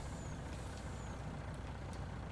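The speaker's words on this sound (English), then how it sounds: "The brakes will hold up in this 1974 Kenworth." Air brakes on a simulated 1974 Kenworth truck in the Farming Simulator 19 video game give off a steady hiss over a low engine rumble, with faint beeps in the background.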